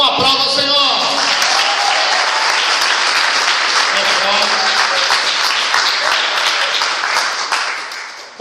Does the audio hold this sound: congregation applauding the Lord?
yes